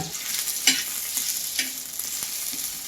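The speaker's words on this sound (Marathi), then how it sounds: "कांदा आणि थोडंसं तेल टाकायचं मग भाजायचं" Chopped onion frying in a little oil in a pan for a traditional Marathi dish, a steady close sizzle with a few sharp scraping stirs.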